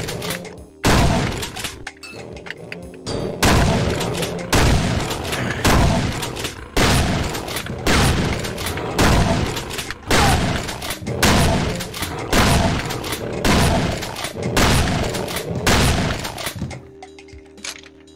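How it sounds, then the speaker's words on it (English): A rocket launcher in the video game Doom fires again and again in rapid succession, each shot a loud booming blast followed by a rumbling explosion, keeping up an almost continuous barrage that stops near the end. "Steady with the rocket launcher"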